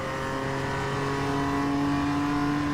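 A race car accelerates at full throttle in iRacing at Summit Point Raceway, a steady, loud, close engine tone climbing smoothly in pitch with no talk.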